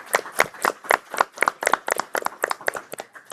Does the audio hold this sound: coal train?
no